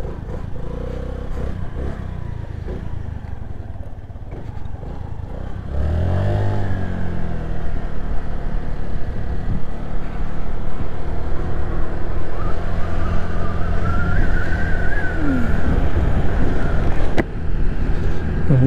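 Honda Navi mini motorcycle ridden on the road, a small engine that idles briefly, then pulls away into a steady loud buzzing drone with rising revs, heavy wind rush over the microphone throughout.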